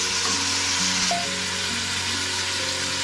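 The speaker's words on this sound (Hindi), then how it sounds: "तो चले मैं आपको भून के बताती हूँ इसको कितना भूनना है कि ये सारा वाइट से ब्राउन हो जाए" Cubed chicken stir-fries in a pan, a steady close sizzle and crackle that fills the clip, with a few faint tonal hums and scrapes beneath it and no talking.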